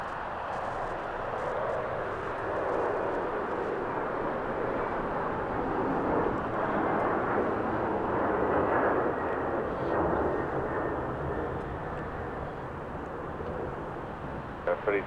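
Airliner at LAX spooling up and starting its takeoff roll with a tailwind, a steady broad jet roar that builds slightly and then holds, heard from a distance, with voices talking over it.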